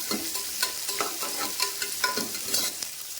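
Chopped onion sautés in ghee in a pan, with a continuous close sizzle broken by regular scraping stirs of the spoon, and no voices.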